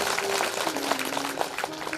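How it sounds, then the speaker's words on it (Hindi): Audience at a Shiva Purana recitation in a Mahadev temple clapping steadily for a couple of seconds, a dense close patter of hands with a faint sustained tone beneath. "ताली बजा लो महात्मा जी के लिए।"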